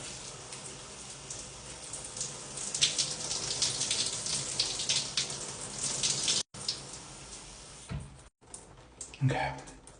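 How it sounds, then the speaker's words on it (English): Shower spray of low-pressure cold water rinsing hair after a hair transplant, a soft steady patter with brief interruptions and a voice talking over it. "I have to rinse with cold water, okay? And it has to be low pressure."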